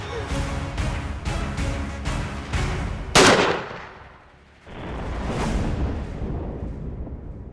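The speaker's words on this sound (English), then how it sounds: "Especially important when you're shooting single projectiles." A series of loud, sharp shots rings out at a shooting range with a bullseye target, one especially powerful blast followed by a fading echo and a later thud-like report.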